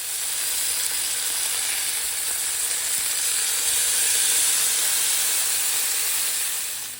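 Chick-fil-A chicken strips sizzle in a hot pan with a steady, loud, unbroken hiss that holds for the whole stretch, with no voices over it.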